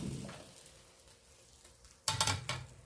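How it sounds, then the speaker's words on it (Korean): A fish brushed with seasoning sauce grills on a wire rack with a quiet, low sizzle, broken by a few faint clicks and then a sudden sharp clatter near the end. "생선의 모양을 살려가면서 생선을 구워주시면 됩니다"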